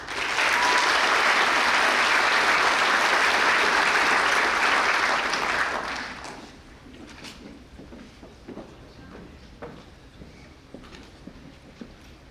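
Sustained applause from a large audience at an Ivy Day awards ceremony honoring recipients, loud and dense for about six seconds, then fading to scattered claps and quiet room sounds.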